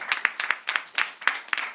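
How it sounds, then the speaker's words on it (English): Audience applause closing a forum event on China's climate action, with dense rapid clapping from a room of listeners pulsing in quick bursts, steady and fairly close, no voices over it. "could we all applaud one more time for our great speakers today?"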